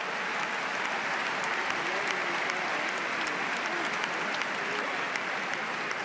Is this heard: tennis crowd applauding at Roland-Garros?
yes